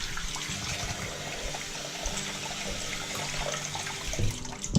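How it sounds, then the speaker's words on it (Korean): Running water rinses Mavic ID360 bicycle hub parts, a steady broadband splashing and gushing that holds at an even level for the whole stretch, with a brief louder surge near the end. "그리고 물로 깨끗하게 헹궈주시면 됩니다."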